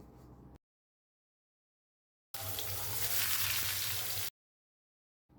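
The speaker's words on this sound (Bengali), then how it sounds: "এরপর একই তেলে আমি পেঁয়াজ কুচি দিয়ে দিচ্ছি।" Chopped onions dropped into hot oil left from frying prawns, giving a loud, steady sizzle for about two seconds between stretches of silence, with no talking.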